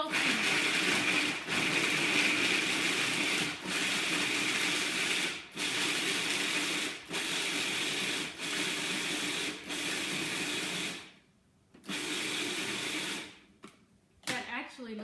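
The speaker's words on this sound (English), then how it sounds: "I'm going to make this into a crumble by pulsing it" A food processor pulses a cinnamon crumble for a raw vegan pie, sounding as a loud, close whirring grind in repeated bursts of one to two seconds, separated by short gaps, with a longer pause near the end.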